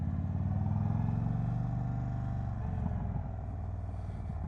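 A 2022 Indian Chief motorcycle engine rumbles steadily while being ridden, a low, continuous throbbing drone held near and fairly even throughout, with no talk over it.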